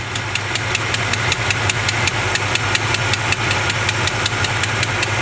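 The engine of a 1970 Chevrolet C20 truck idles with a steady low rumble and a regular ticking knock pulsing through it, close and fairly loud, with no voices.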